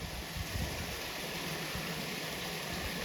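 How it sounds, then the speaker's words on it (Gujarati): Water pours steadily from pipes down into a farm well, a constant loud rushing wash with no pauses and no voices. "પાણીના ધડધડા ચાલુ છે"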